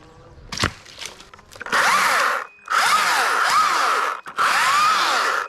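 A Stihl battery chainsaw cuts through a small branch outdoors, its high whine rising in three sustained bursts with brief pauses, loud and close, after some handling clicks.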